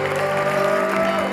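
Game show studio audience applause, a brief steady rush of clapping with crowd noise and a faint sustained musical tone underneath, loud throughout.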